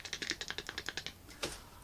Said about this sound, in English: I'm typing with 2 fingers